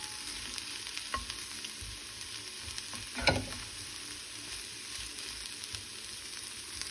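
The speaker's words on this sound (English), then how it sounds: "let's go stir our meal. And I'm just gonna continue cooking this on low" A meal cooks on low heat in a pan, giving a steady soft sizzle with a few scraping stirs, one sharper clatter of the utensil near the middle.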